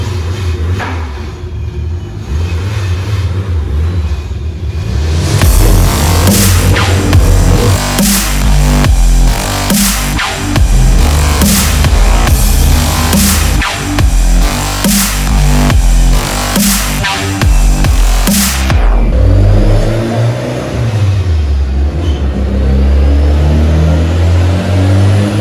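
A street Mitsubishi Evo with a 2.3 stroker kit and a bolt-on Garrett GT30 turbo revving hard on a dyno: a loud, sustained pull climbing through the gears, then the engine dropping back to a rumbling idle.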